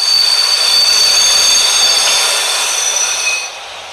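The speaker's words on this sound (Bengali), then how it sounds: "ঠিক তখনই ট্রেন ডোভার টাউনে এসে থামল" Continuous rumble and high metallic hiss of a train running along the rails, easing off near the end as it slows.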